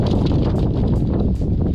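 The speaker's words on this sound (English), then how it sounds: "It's really windy here." Strong wind buffets the microphone, a constant loud low roar with gusty fluctuations and no speech.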